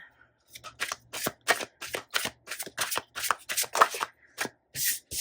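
Tarot cards are shuffled by hand in quick riffling bursts, close and crisp, broken by short pauses and ending in a few longer sweeps.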